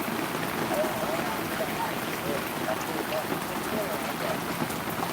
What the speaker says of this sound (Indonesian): Kenapa hujan masih cukup deras?